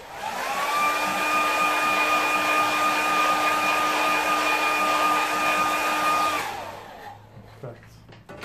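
Hair dryer blowing over wet watercolour paint on paper, a loud, close, steady whining whoosh with a sustained tonal hum that runs for about six seconds before switching off and winding down, followed by faint handling noises.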